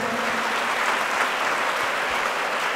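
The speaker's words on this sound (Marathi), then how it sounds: "यांच्यासाठी एकदा जोरदार टाळ्या द्यायच्या सर्वांनी" Steady, continuous clapping from a crowd at a birthday felicitation ceremony for a teacher, dense and even throughout with no pauses.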